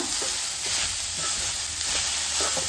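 Grated carrot frying in ghee for carrot halwa, a continuous bright sizzle with faint scraping of stirring pulsing through it, close and steady.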